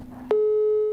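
A phone line rings on a call: after a short quiet moment, a single steady electronic tone starts and holds clearly to the end.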